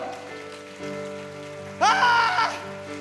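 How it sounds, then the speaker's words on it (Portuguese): A church congregation applauds, a soft patter of clapping beneath sustained musical tones, with a louder vocal swell rising briefly near the end. "Você pode aplaudir o nome do Senhor?"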